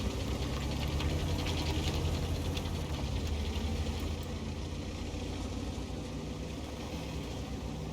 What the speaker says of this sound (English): Pushing that wreck of the IS-7 out the way